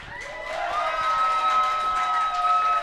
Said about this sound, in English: That is literally the biggest applause I've ever seen in my life